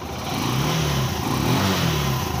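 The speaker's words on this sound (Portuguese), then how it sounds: "eu vou estar funcionando a moto agora" A motorcycle engine runs and revs continuously during a pulse-coil test, a steady close mid-pitched engine roar with slight swells in throttle and no speech over it.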